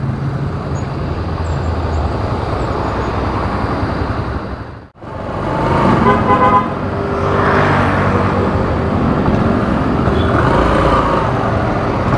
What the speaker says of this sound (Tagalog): Medyo traffic.